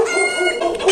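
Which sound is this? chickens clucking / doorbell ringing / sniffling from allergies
chickens clucking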